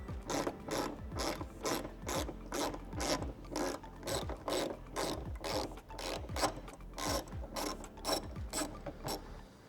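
Socket ratchet fitted with a 10mm socket backing out wheel well bolts on a Toyota 4Runner, a rapid rhythmic clicking of the pawl in steady repeated strokes, close and clear.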